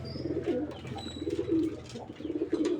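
A racing pigeon in a Tulungagung breeding loft gives a close series of soft, throaty coos in rhythmic pulses, with faint chirps from other birds in the background.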